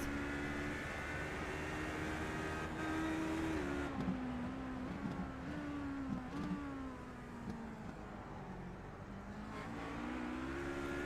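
Onboard sound of an LMP2 prototype race car during a Legacy Sports Car Series round at Auto Club, its engine droning steadily with rising and falling revs through gear changes, heard from inside the car.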